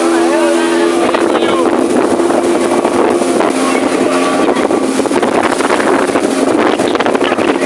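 A speedboat carries riders at Patenga sea beach. It produces a steady, loud roar of engine and rushing water, heavily buffeted by wind noise across the microphone, with indistinct voices mixed in.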